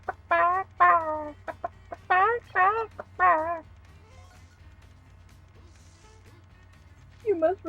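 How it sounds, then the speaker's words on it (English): Clucking from a chicken in the Toy Story 2 video game, Airport Infiltration level: a close run of bright, warbling clucks in quick bursts, a quiet pause, then one more short cluck at the end. "Chicken."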